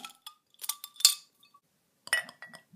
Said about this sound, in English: let's open each one up and then we'll put the ice cubes in